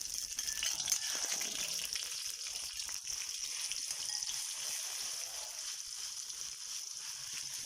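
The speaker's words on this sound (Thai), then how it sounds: "เอาน้ำพริกนะลงไปผัดนะคะ ผัดน้ำพริกให้หอมก่อนนะคะ" Homemade chili curry paste stir-fried over low heat in a pan gives a steady, close sizzle with faint scraping and rattling under it, continuous throughout with no voices.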